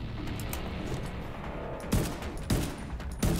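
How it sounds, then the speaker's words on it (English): Sustained automatic gunfire in The Division 2, a dense continuous rattle of shots with a few louder, sharper bursts punctuating the barrage near the end; no talking. "this gun is powerful"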